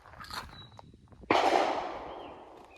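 A single sharp rifle report from an AR-15 fired at targets, loud and close, followed by a long decaying outdoor echo, with light rustling before the shot.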